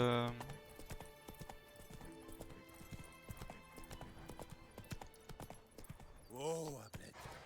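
A horse trots with rhythmic clip-clop hooves in The Witcher 3, steady and moderately close, with game music and a whinny-like call near the end, while a person talks over it.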